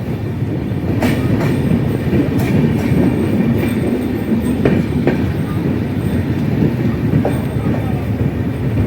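The Madhumati Express enters Talma railway station in Faridpur, Bangladesh, rumbling loudly and continuously nearby, wheels clacking and clicking over the rails as it rolls in.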